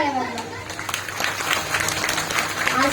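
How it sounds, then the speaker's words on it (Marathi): Enthusiastic applause from a kirtan audience at a Mahadev temple, dense clapping filling the space for a few seconds, with children's voices mixed in. "दोन्हीही मृदंग वादक साठी एक बार जोरदार टाळ्या वाजवा"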